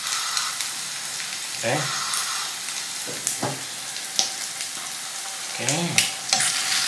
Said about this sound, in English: You just fry a nice sunny side up egg.